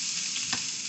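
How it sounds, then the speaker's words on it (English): Onion hits a hot pan and sizzles steadily at close range, a constant bright hiss with a faint stir, no talk. "Pan is hot and ready. I'm gonna add some onion."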